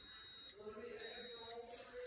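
A blender with a cooking cycle, making cheddar potato soup, beeps when the cycle finishes: two high-pitched electronic tones about half a second each, with a soft background hum between them.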